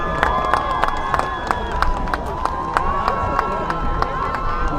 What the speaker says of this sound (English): Let's give it a round more applause for one senior student at senior elementary high school.